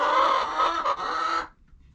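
Chickens on a farm cluck loudly and close in a dense, continuous burst lasting about a second and a half, then cut off into near silence.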